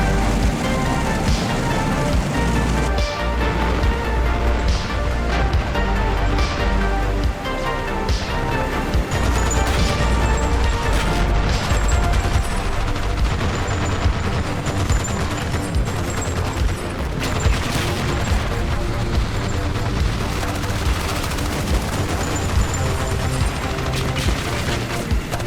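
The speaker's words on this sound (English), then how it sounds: "Enemy rocket attacks hit my clumped up troops out in the open" Rocket strikes blasting clumped infantry in the open during the Armored Brigade II battle Hills, Bloody Hills, heard as a dense, continuous roar of overlapping explosions and crashes that stays loud throughout, with no pauses.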